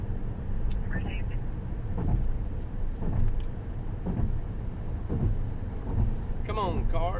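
A car drives through the streets of Austin toward a major accident on Highway 71, its low engine and road rumble steady underneath, with faint voices and a few short electronic chirps over it.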